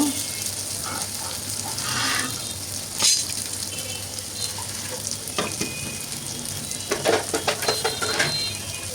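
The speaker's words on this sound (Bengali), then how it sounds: "পরিমাণ মতো লবণ দিয়ে আর একটু ভেজে নিচ্ছি এই তো পেঁয়াজগুলো আমার ভাজা হয়ে গেছে" Onions fry in a pan with spices and salt, a continuous crackling sizzle broken by scraping stirs and light metallic clinks of a spoon that grow busier toward the end.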